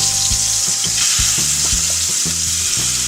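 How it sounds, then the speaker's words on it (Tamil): Chicken pieces sautéing in hot oil with ginger garlic paste, a loud close sizzle with repeated stirring scrapes in an uneven rhythm, no voices. "சிக்கன் பீஸ் எல்லாம் சேர்த்துட்டு இந்த ஆயிலே வதக்கலாம்."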